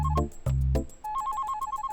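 A phone ringtone plays: a few low booming notes give way to a rapid, repeating high electronic trill, loud and close.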